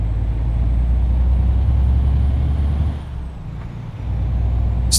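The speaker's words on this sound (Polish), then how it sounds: "Podoba mi się to, że ten silnik ma tyle basu. On brzmi po prostu super." A MAN truck engine in Euro Truck Simulator 2 rumbles loud and bass-heavy throughout, dipping briefly before returning to a steady drone, with a faint high hiss near the end.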